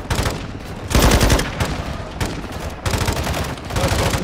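Rapid gunfire bursts from the video game Modern Warfare 2 Remastered, loud and close, arriving in several separate volleys with short gaps between them and no talk over them.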